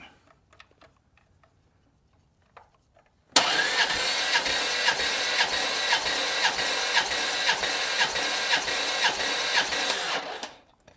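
A Ferrari F355 engine cranking on the starter during a compression test, a loud close rhythmic chug of about a dozen even strokes after a quiet start, ending abruptly.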